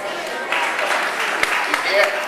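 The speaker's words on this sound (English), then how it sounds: "let's give him a round of applause anyway" Short round of applause at a Remote Area Medical press conference, moderately loud clapping from an audience with a few sharper claps standing out.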